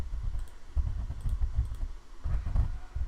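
Calculator keys tapped on a TI-Nspire while entering algebra equations, a quiet run of small plastic clicks in uneven bursts, close and soft over a low room rumble.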